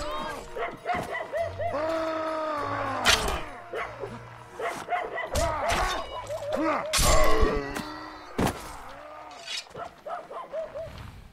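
Dogs barking in the medieval game Mount and Blade Warband: repeated close barks and yips in uneven bursts, some rising into whimpering yelps, over a low game background.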